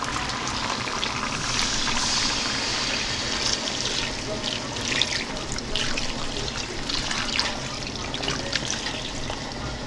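Water runs and splashes into a cooking pot in a home kitchen as Mafe is prepared, a steady broadband trickle and pour lasting throughout at close range.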